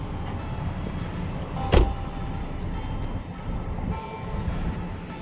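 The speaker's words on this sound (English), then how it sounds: "Let's go ahead and pop the trunk." The trunk of a 2016 Nissan Sentra S pops open with one sharp mechanical clunk midway through, set against a steady low background hum with no speech.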